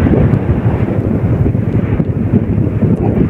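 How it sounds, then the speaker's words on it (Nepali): Strong wind buffets the microphone as a motorbike rides off-road toward Rara, a steady, loud low rumble with gusty fluctuations throughout and no talk. "हेर्नु न कस्तो हावा लाग्यो"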